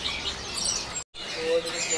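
A white-rumped shama (murai batu) sings at a busy bird market, bright chirping phrases up close over a steady market bustle, broken by one brief gap of silence.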